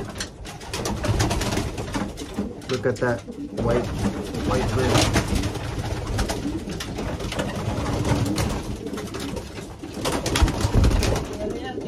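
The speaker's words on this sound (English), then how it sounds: "This is one of his imported birds from Netherlands." Racing pigeons imported from the Netherlands coo in a home loft, a steady murmur of calls with wing rustles while someone talks over them.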